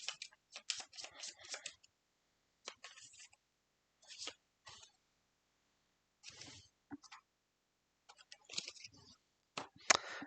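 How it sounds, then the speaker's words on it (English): Game cards for Aeon's End are shuffled in several short bursts of riffling and flicking, close and crisp with quiet gaps between. "so we'll just shuffle and take one out"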